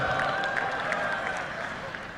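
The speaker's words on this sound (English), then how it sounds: "Listen to the cheering." Crowd noise from a played recording, a dense wash of cheering and clapping that holds steady at moderate loudness throughout.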